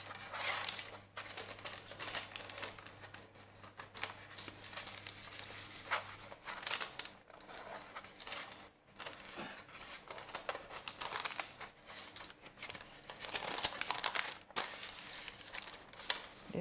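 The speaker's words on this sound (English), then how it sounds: "So I'll be using two parchment paper" Parchment paper crumpled and handled while lining a pan for a crumb cake, close-up crinkling and rustling in irregular bursts, fairly quiet, with no talk.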